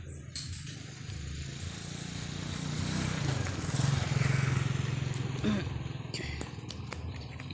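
A motorcycle engine runs steadily nearby at a low rumble, swelling a little louder midway as if moving past, with rustling and faint background clatter on a rural morning roadside.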